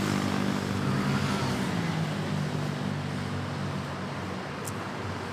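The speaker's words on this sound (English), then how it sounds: "The Haviland Dash 8. Arriving from Uswanga, Coron." A De Havilland Dash 8 turboprop arriving at Manila airport gives a steady droning propeller and engine roar, loud and continuous, with a faint tonal hum beneath and no voices.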